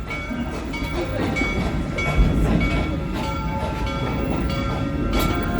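Serengeti Express train ride at Busch Gardens Tampa, a steady rolling rumble with rhythmic clacks from the wheels, heard from on board at moderate loudness without speech.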